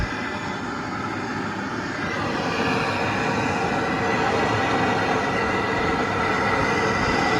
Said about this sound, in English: Two blow torches on, warm it up.